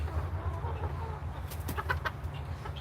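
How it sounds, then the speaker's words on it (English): Malay rooster on a backyard chicken coop calling with short, hoarse clucks and a crow-like burst, fairly close over a steady low background rumble. "Now, he sounds a little different than my other roosters."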